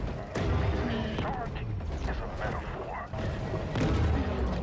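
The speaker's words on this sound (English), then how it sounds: "I catch up to him but get hit by a few of his torpedoes" Torpedoes explode against a shark in the video game Maneater, with several sharp booming hits spaced across a few seconds amid watery game noise and tonal sound effects, fairly loud and close.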